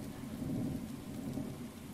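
Thunderstorm with steady rain in a horror video game, a low rolling rumble of thunder beneath a constant hiss of rainfall, with no speech.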